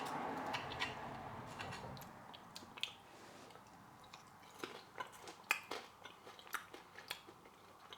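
Someone bites into and chews a crunchy herb-roasted wedge served with griddled rump steak. Sharp crisp crunches and clicks come in an irregular run, close and fairly quiet, with no talking.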